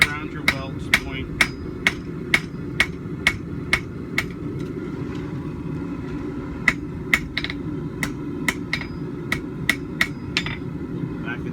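A small hammer lightly taps around a forge weld on a back scratcher, sharp ringing strikes in two quick runs of about ten blows each with a short pause between, over a low constant forge roar.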